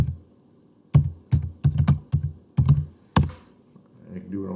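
Typing on a computer keyboard: a burst of about nine close, distinct key clicks in an uneven rhythm, starting after a second of quiet, with faint sound at the end.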